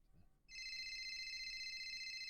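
A phone rings inside the GTA RP video game, a steady electronic ring tone that starts abruptly after a brief quiet moment and holds loud and continuous to the end.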